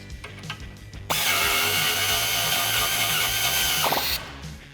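Power tool tightening the nut on a Jeep Wrangler JK front swaybar quick-disconnect pin, a steady loud whirring burst of about three seconds after a few faint clicks, ending abruptly.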